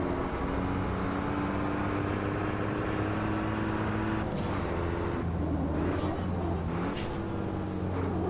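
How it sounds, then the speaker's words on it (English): Diesel truck engine in the Automobilista 2 racing game: a loud, steady low drone with layered harmonic tones that shifts partway through, with brief whooshing bursts toward the end and no talk. "I know a diesel truck engine isn't exactly a thoroughbred V10"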